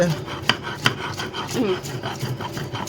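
Ginger and garlic ground on a shil-pata stone give rhythmic, close rasping strokes, a gritty scrape of stone on stone repeating about twice a second.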